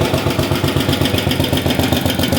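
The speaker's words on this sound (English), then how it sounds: "Sitting there idling like it's brand new." MTD 990 engine with a freshly rebuilt carburetor idling steadily, its rapid even low-pitched putter pulsing in a regular beat, close and alone.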